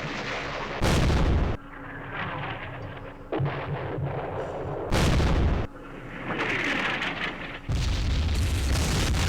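Artillery fire in the wargame Campaign Series Vietnam. Three heavy, loud booms arrive a few seconds apart, each a sharp blast with a sustained rumble. Quieter battle noise and crackle fill the gaps between them.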